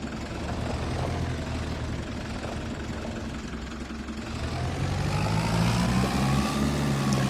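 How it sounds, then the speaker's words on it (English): A tractor engine in Farming Simulator 25 idles and hums steadily at mid to low pitch, swelling slightly louder toward the end as it works in reverse. "Boy, this tractor does not like to reverse."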